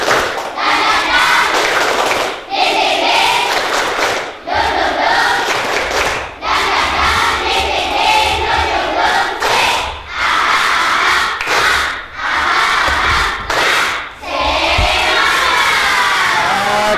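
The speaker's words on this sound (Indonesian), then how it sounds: "Tepuk semangat" Classroom of primary schoolchildren in Indonesia does a rhythmic clap-and-chant icebreaker, loud unison shouted chants punctuated by sharp bursts of group clapping in short repeated phrases.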